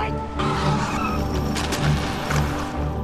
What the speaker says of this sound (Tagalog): Sumakay siya ng sasakyan at pinaandar ito ng buong bilis